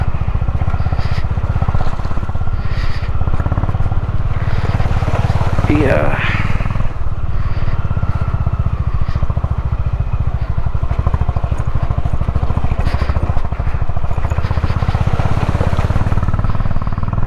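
A motorcycle labours in first gear through a rocky mountain stream on the rough Spiti-to-Manali route, its engine chugging loudly and steadily while people talk over it.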